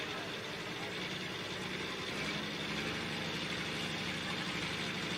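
A turbocharged inline six-cylinder International engine, built as a limited pro stock motor with a 4.1-inch turbocharger, idles at close range with a steady, dense rumble that holds level throughout.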